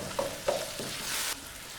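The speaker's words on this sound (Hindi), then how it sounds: "कीमे को हमने प्याज और लहसुन के साथ अच्छी तरह से भून लेना है।" Minced meat fries in a pan with onion and garlic. A soft sizzle sits under a couple of light scraping stirs, close and fairly quiet.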